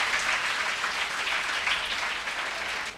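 A congregation at a Hindi church prayer meeting clapping hands together, a dense continuous wash of applause lasting the whole moment, fairly loud and steady.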